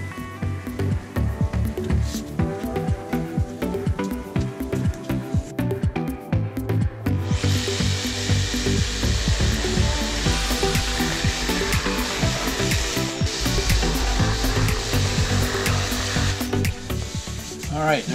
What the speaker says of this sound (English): cut it out with the jigsaw